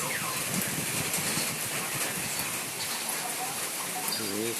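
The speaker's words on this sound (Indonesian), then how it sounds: "Pagi ini sedang hujan guys." Steady morning rain falls in the countryside during the rice-planting season, a dense continuous hiss of drops that stays even throughout, with no voices over it.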